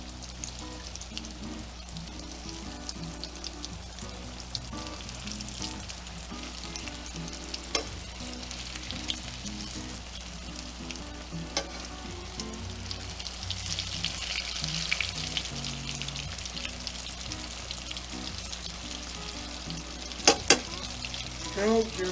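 Green tomato slices fry in a pan of hot oil, giving a steady, close sizzle and crackle throughout with a few sharper pops near the end and no talking.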